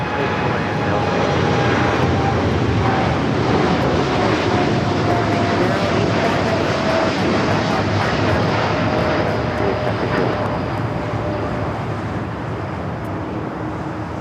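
A heavy Boeing 777 jet landing on runway 25L at LAX, its engines a loud continuous roar that holds steady close by and slowly eases off toward the end.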